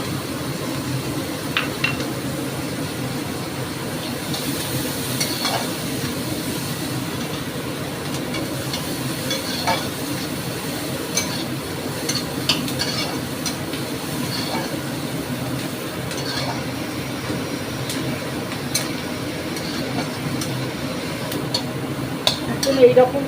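Finely chopped small capsicum fries and is stirred in a pan for a paneer gravy, giving a low continuous sizzle with scattered scraping and clinking of the spoon throughout, close by.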